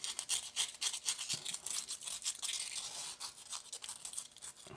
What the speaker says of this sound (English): just go in there and with some fresh sandpaper and just scuff